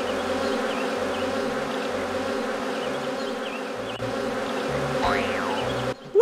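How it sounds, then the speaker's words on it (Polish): A swarm of bees buzzing around Winnie the Pooh's honey pot in a PC game makes a steady, continuous drone with a wavering hum. It carries on alone for several seconds and then cuts off abruptly near the end. "Kubusia, który miał garnuszek z miodem i oczywiście pszczoły się nim zainteresowały"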